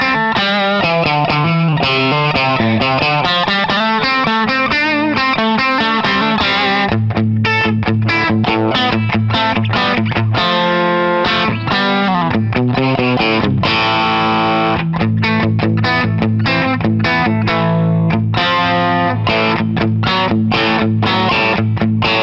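A Partscaster electric guitar with pickups made from refrigerator magnets, played loud and distorted with a chorus-like effect, strummed chords and choppy rhythmic riffs running steadily for over twenty seconds.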